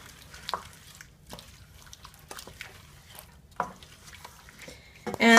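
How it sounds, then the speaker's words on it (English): A spoon stirs tomato pasta sauce in a pan, with soft intermittent scrapes and wet sloshes under a faint simmer, followed by a louder clatter at the very end, without voices. "I'm just gonna stir this"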